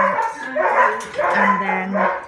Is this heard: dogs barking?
yes